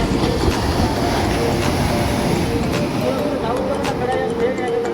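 A train rumbles steadily past close by near the seashore at Mastram Dhara, Gujarat, its rolling clatter continuous throughout, with people talking over the noise.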